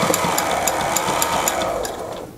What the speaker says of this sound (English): Reverse stitching.